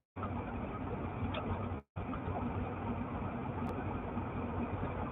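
A car engine hums in a steady, muffled interior drone while driving, close and unbroken except for a brief cut-out near the two-second mark.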